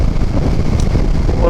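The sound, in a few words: strong wind blowing through a gap between two mountains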